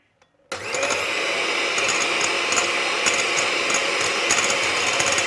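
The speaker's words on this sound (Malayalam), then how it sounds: "നന്നായിട്ടൊന്ന് വിപ്പ് ചെയ്തെടുക്കാം. ക്രീം നല്ല തിക്കായിട്ട് അടിച്ചെടുക്കണം." An electric mixer whips 100 ml of fresh cream for a no-bake lemon cheesecake. The motor kicks in suddenly and runs loud and steady with a whirring, buzzing drone, close to the microphone.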